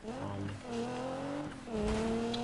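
Car engine in the 2015 Need for Speed racing game, a steady tonal drone that rises in pitch through three acceleration pulls with brief dips between gear shifts, loud and continuous with no talk.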